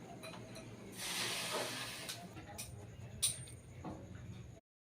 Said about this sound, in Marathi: गरम पाण्यामध्ये वाफ येऊन घेते थोडी करून